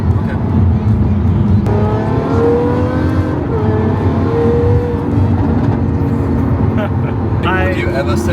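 A straight-piped Lamborghini Aventador SVJ revs and pulls steadily under acceleration at night in Bangkok, pitch climbing and dropping as gears change, loud and close with a voice faintly underneath.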